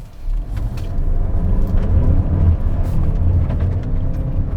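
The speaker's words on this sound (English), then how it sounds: "2019 CX-5 Turbo on a gravel road." A 2019 Mazda CX-5 Turbo driving on a gravel road, with a steady, loud low rumble of engine and tyre noise that continues throughout and no talking.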